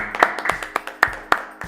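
A handful of people clapping in a sparse, uneven burst lasting under two seconds, close and fairly loud.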